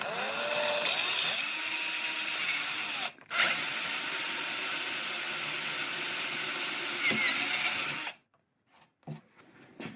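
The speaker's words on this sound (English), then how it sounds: "We have to do some drilling here." A power drill whines loudly and steadily for about eight seconds while drilling to fix a fridge handle, with a brief pause near the start, then stops, leaving a few faint clicks and handling noises.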